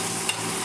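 Onions fry in a hot pan for a prawn head dish, a brief steady crackling sizzle heard close, with a faint stir scrape partway through.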